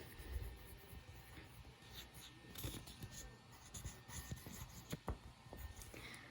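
A colored pencil writes out the word matemática in decorative lettering on paper, making soft, close scratching strokes and small taps spread across the clip, with no talking.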